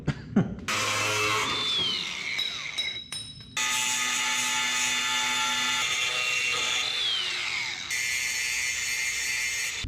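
Power tool cutting into metal on a 1980 Squarebody 4x4 truck, a loud sustained high-pitched whine and grinding that stops briefly, then resumes steadily with shifting pitch close to the microphone.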